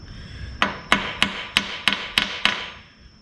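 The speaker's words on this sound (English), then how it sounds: "So the manual says to stake the side of the screws." Seven sharp metallic hammer strikes staking screws on an IH 1066 tractor transmission while installing shift forks, evenly spaced about a third of a second apart, loud and close with no talk.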